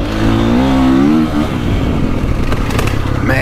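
A motocross bike, Honda CRF450R or KTM 450SXF, on a slick GP track, its engine held loud and close at a steady high rev before dropping into rougher bursts of throttle.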